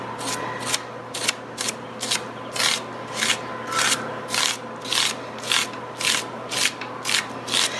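White paste being smoothed over a stencil with a scraper, rhythmic rasping strokes repeating roughly twice a second, close and fairly loud over a faint steady hum.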